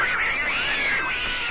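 A cat meows in a video game, a single continuous wavering cry that is loud and close and fills the whole moment without any talk over it.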